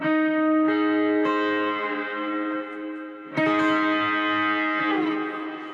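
Distorted electric guitar chords ring out loudly, each strum sustaining with a bright, gritty buzz and a wash of echo before the next chord.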